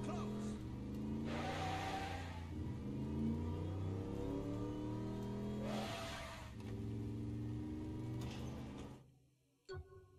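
A car in the video game Saints Row: The Third drives and revs with a steady, fairly loud engine drone, dropping away abruptly near the end.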